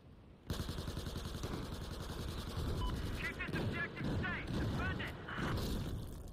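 Battlefield 4 multiplayer gunfire on Operation Firestorm: sustained automatic bursts rattling loud and close almost without pause, with a player talking over the shooting throughout.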